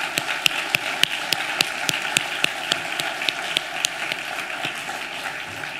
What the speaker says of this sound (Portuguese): eu peço uma salva de palmas às USFs que estão aqui